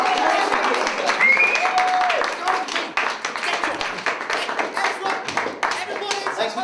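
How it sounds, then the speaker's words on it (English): Audience applause for a contest winner, a steady wash of clapping across the whole stretch with brief chatter and a whistle mixed in, growing slightly thinner toward the end. "Big round of applause for our winner."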